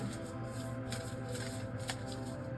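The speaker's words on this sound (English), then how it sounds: "let's just shuffle this deck once more" A tarot card deck being shuffled by hand, giving a steady run of soft papery riffling and rubbing over about two and a half seconds, close and fairly quiet, with no voices.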